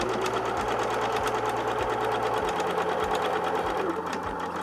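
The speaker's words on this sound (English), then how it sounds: "So now I literally am just going to chain piece all these" A sewing machine chain-pieces butterfly quilt blocks, running continuously with a steady, close mechanical whir and a fast even stitching rhythm throughout, with no pauses.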